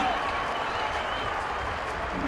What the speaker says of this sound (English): the crowd erupts here at the racecourse